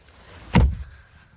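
A storage compartment lid in a Renault Scenic E-Tech Iconic is shut, making a single short, muffled thud with no talk over it.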